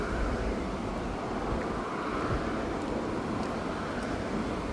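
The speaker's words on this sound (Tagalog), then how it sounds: "Wow, kalami sa hangin." Outdoor wind buffets the microphone in a constant low rumbling roar, with brief faint ticks over the steady gusting.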